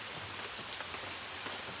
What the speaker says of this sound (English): because it's still raining